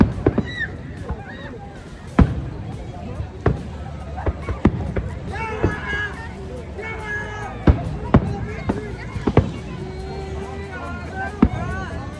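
Fourth of July fireworks display with repeated sharp booms and crackles spread across the scene at irregular intervals, some loud and near, with whistling tones between bursts and people chattering and exclaiming throughout.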